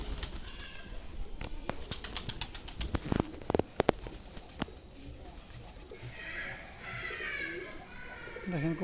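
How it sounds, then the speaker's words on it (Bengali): Farm pigeons coo in soft, low, rolling calls, with scattered sharp clicks and wing noises near the start and people talking in the background. "কবুতরের বাংলা কবুতর, কিন্তু ডাক খুব সুন্দর"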